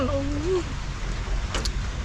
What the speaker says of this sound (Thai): ฝนตกพอดี